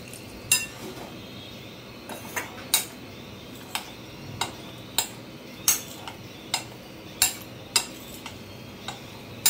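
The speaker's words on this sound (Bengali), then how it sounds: "চামচ দিয়ে মিশিয়ে দিচ্ছি। সঙ্গে পরিমাণ মতো একটু জল দিচ্ছি।" A spoon stirs okra curry in a pot, scraping and clinking against the sides in a steady rhythm of sharp ticks about twice a second while water is added.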